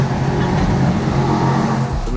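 Chevy C10 drift truck with a carbon fiber widebody and Black Widow exhaust, a loud, deep engine rumble close by with a steady low tone, dropping off near the end.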